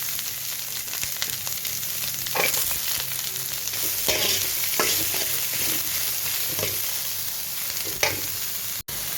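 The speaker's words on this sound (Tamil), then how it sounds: "இதில் கருவேப்பிலை, வெங்காயம் சேர்த்துக்கலாம்." Curry leaves and onion fry in hot oil as a spoon stirs them, a steady close sizzle broken by periodic scraping strokes against the pan, with no voices.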